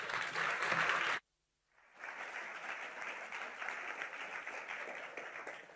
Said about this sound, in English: So may I have a warm applause for our speaker, Dr. Ying Zhang.